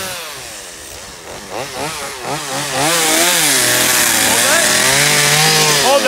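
A chainsaw revs in uneven bursts, its pitch rising and falling, then runs steady and loud as it bites through ice.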